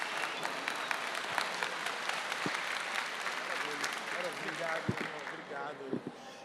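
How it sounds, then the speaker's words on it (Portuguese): Audience applause at a business analytics talk: dense, steady clapping for the full duration with a few sharper individual claps, voices murmuring faintly underneath. "Uma salva de palmas."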